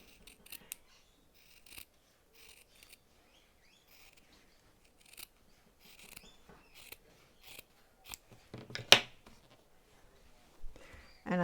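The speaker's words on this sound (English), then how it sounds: "I've sewn this seam now, and I'm going to trim it off" Scissors trimming the edge of a freshly sewn fabric seam on a patchwork top, quiet intermittent snips and rustles spaced across the stretch, growing a little busier and louder near the end, no talking.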